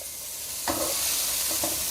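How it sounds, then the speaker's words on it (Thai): Bean sprouts sizzle and crackle in a hot pan, with short bursts of stirring and tossing as they are moved around; no voices. "ผัดแป๊บ เดียวก็พอนะครับสำหรับ ถั่วงอก"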